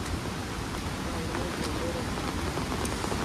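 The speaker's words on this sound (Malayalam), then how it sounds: "ഇവിടെ ഭയങ്കര ശക്തമായ മഴയാണ്" Heavy monsoon rain falls at Ezhattumukham near the Athirappilly waterfall, a dense, loud, unbroken hiss that stays even throughout.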